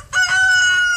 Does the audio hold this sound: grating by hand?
no